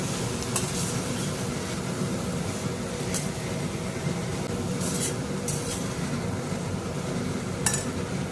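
Cauliflower and potato curry with turmeric being stirred in a pan, a steady low sizzle with occasional sharp scrapes of the spoon against the pan, continuous and close, with no talking.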